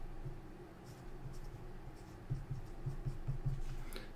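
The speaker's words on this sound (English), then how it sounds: "so I might just write these down" Pen writing numbers on paper while working through a maths network problem, with soft scratchy strokes that turn into a quick run of short, distinct marks near the end.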